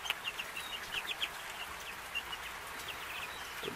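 Faint high-pitched cheeping of chicks, scattered peeps in small bursts, with soft background noise and no talking.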